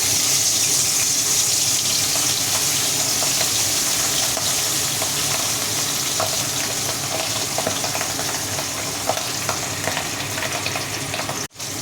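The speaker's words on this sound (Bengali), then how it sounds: "তেলটা গরম হয়ে গেছে এবার পাবদা মাছগুলো তেলের মধ্যে দিয়ে দেবো" Pabda fish frying in hot oil in a home kitchen, a steady loud sizzle and crackle with small pops running continuously, close up, with a brief clatter near the end and no voices.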